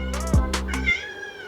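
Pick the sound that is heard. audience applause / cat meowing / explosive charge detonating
cat meowing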